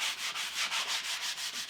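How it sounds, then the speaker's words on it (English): Steady back-and-forth rasping of a light sanding block on a wooden cutting board, close up, in a regular rhythm of about eight strokes with no voices. "I'm going to take a light sanding block and just sand it a little bit,"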